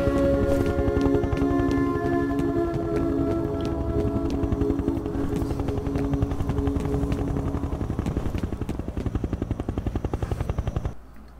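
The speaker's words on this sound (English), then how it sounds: "Here comes our helicopter." A helicopter arriving in the video game F.E.A.R., its rotor thudding steadily and loudly, droning with a tonal engine whine, then cutting off abruptly near the end.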